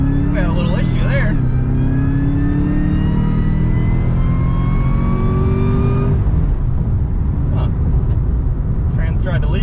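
2JZ-swapped Camaro launching hard at a track with heavy wheelspin, engine revs rising in a loud climbing whine for several seconds before cutting off to lower rumble, close by, with people talking at the start and end.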